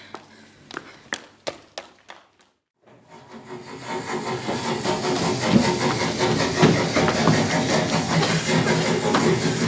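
A train at a station releases a long, steady hiss of steam that swells and holds loud after a few sharp taps and clicks.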